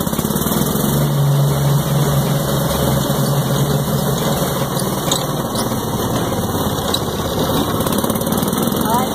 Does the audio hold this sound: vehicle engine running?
yes